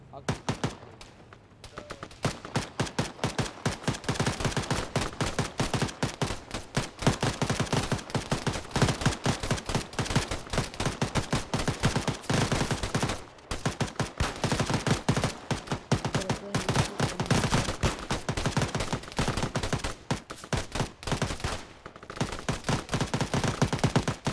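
Heavy gunfire in a video game battle, loud and continuous, with dense overlapping bursts of shots crackling through the whole stretch and only brief lulls.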